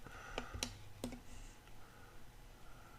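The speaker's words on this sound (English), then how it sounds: "so I'm going to click." A few sharp computer mouse clicks while drawing in Fusion 360 CAD software, close and fairly quiet, three or four quick clicks clustered in the first second and a half over faint room hiss.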